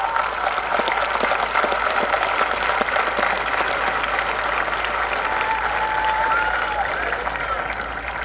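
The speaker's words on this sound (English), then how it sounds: "So a big round of applause for the Mochtas." A crowd at the 2021 Louth senior football championship final gives the Mochtas team a sustained round of dense clapping, steady and fairly loud for several seconds, with a voice talking over it.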